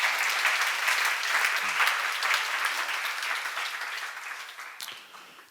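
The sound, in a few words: congregation clapping, applause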